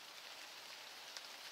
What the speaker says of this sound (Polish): Deszcz pada, jak słyszycie, a my zbieramy borowiki.